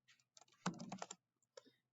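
Light typing on a computer keyboard, a short burst of quick close key clicks followed by a brief pause and a couple more taps, quiet and with no talking over it.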